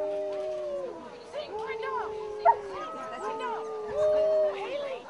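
Greyhounds and basset hounds howling together on command at a greyhound event, drawn-out wavering canine howls overlapping alongside a person talking and urging them on.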